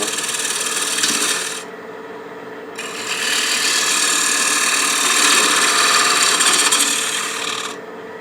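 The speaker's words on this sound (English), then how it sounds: "let me get a spindle gouge and speed up a little bit. And just round this over." A spindle gouge rounds over the edge of a wooden picture frame spinning on a lathe, a loud steady rasping cut that briefly eases and then resumes over the motor's hum.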